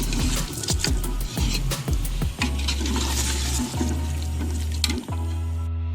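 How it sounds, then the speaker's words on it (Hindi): Water poured into a pot of potatoes frying for a village-style aloo gosht gravy: a loud, steady sizzle and splash fill the whole stretch, with occasional knocks and stirring sounds near the pot. "फिर हम 2 गिलास पानी डालेंगे ग्रेवी बनाने के लिए।"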